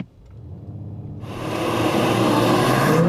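A 2020 Mercedes-AMG GT 53 4Matic+ 4-Door Coupe engine roars up from near idle into a hard, rising acceleration from standstill without launch control, growing louder and brighter over a few seconds.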